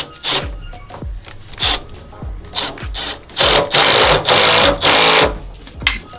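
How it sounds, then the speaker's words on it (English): A hose clamp on a Grimmspeed turbo coupler is tightened in a Subaru XT engine bay, with rapid repeated ratcheting bursts close up, some short clicks and several longer whirring runs. "tighten up the clamp"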